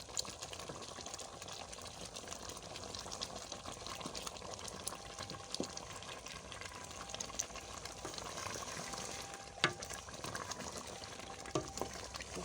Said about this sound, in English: I added my cocoyam flour, so I'm going to stir it so that it will be melted.